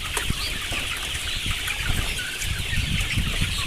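Commercial Sonali chickens in a poultry farm cluck and shuffle continuously in a dense flock, with scattered wing flaps and scratching close by, no voices heard.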